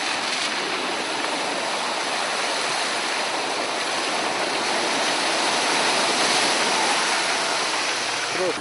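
Floodwater gushes from overflowing street drains on a flooded road in Targu Jiu, a steady, loud, broadband rushing roar that holds constant throughout with no pauses.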